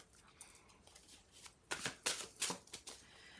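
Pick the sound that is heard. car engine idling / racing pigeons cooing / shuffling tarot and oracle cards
shuffling tarot and oracle cards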